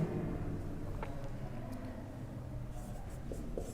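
Marker or chalk scratches across a board in a physics lecture hall, a few faint strokes heard over a steady low room hum, with no voices.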